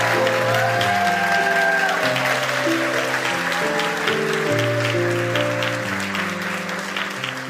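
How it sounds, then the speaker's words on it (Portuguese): Loud, sustained crowd applause welcoming a guest to the Arena dos Saberes stage, a dense clatter of hands layered over music playing in the background and slowly easing off. "Vamos aplaudir Lúcia Axé,"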